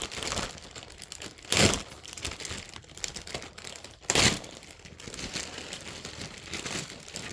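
Plastic packaging of an anime slime figure being cut open, quiet crinkling and rustling with two short louder crunches of the plastic giving way.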